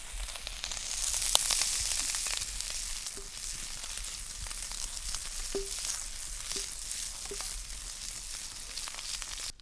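Sausage sizzles in a carbon steel pan over an outdoor campfire, a steady dense crackle and hiss running throughout with occasional faint pops and clinks, fairly close, with no talking.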